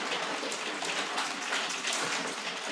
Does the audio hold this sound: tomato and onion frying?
no